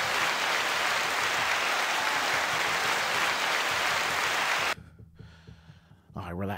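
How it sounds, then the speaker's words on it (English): A podcast audience or crew applauds the 142nd episode milestone with a dense, even wash of clapping for about five seconds. The applause then cuts off abruptly, and a voice is heard as it fades. "Another clap."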